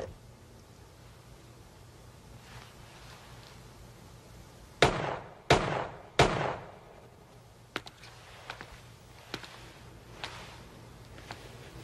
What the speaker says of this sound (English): Nice shooting, boss.